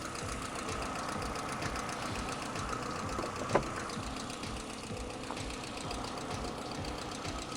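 A Mk1 Ford Mondeo engine of about 115 horsepower idling with a light tappet tick, a steady close rattling hum with one brief sharp knock midway.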